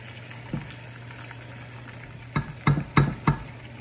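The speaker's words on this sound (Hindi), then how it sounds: "हम इसमें टमाटर डाल देंगे।" Tomatoes go into a chicken karahi cooking in a pan, a low steady simmering hiss punctuated late by a few close thuds and sizzling splashes as the pieces land.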